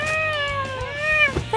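A cat meows from up in a tree in the Fallout video game, a single long, drawn-out cry with rising and falling pitch, loud and close, followed by a short second meow.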